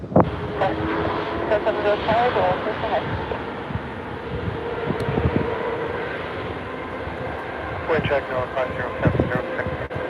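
A WestJet airliner rumbles steadily at Vancouver Airport, a broad, continuous engine roar with wind buffeting, heard from a spotting position with faint radio chatter in the background.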